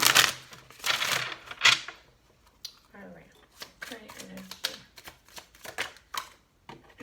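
Tarot cards are shuffled by hand, bursts of soft rustling and flicking at the start and again in short scattered flurries, close by, with a voice briefly speaking between them.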